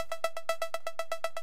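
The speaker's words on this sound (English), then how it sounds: "it creates this nice, very high synth sequence" A bright, very high synth sequence comes from one held note, ticking out quick, evenly spaced plucks in a steady pulse, close and alone, with no voices.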